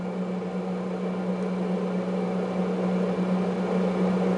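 A West Bend XL air fryer oven runs with a steady, even hum and a whooshing fan, close and constant with no voices.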